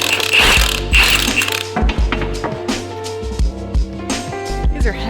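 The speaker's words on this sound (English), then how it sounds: "There's some real tight lug nuts." Ratchet wrench clicking as it breaks loose very tight lug nuts on a car wheel during a wheel swap, a close, loud run of rapid mechanical clicks and clunks in bursts, with a voice talking briefly.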